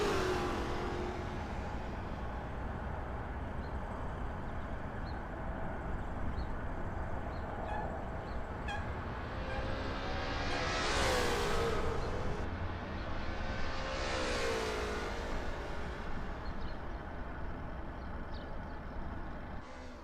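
A Lola T70 MkII Spyder race car laps Riverside in a racing game on a practice out lap, its engine droning steadily with two rising-and-falling revving sweeps as it accelerates and passes.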